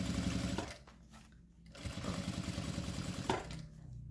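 A sewing machine topstitches the lining seam of a thermal water bottle holder, running in close steady bursts with a short pause midway, loud and near throughout.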